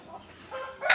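A good-quality rare-coloured cockerel being shown for sale gives a brief, rising cluck near the end of a short, quiet moment, close and fairly loud against faint background.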